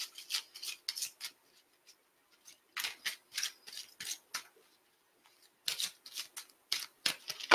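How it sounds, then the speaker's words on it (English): Tarot cards are shuffled in repeated quick riffling bursts with short pauses between, close and crisp in a quiet room. "Have a little shuffle."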